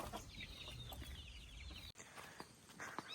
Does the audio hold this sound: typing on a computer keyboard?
no